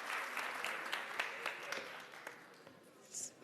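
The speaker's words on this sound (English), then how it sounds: "Ladies and gentlemen, a round of applause to the Minister." Applause for the Minister at a Zero Waste Forum event: steady, faint crowd clapping spread across the room, with a few sharper individual claps standing out and some murmured voices beneath.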